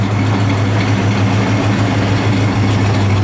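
A 1971 Oldsmobile Cutlass Supreme Convertible idling, a steady deep rumbling engine with an even low throb, heard close and loud with no talk.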